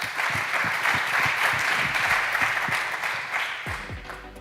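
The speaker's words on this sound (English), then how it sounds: "Please, big applause." Conference audience applauding at a plenary session of a European big data forum in Valencia, a dense, continuous wash of clapping that holds steady and then tapers slightly near the end.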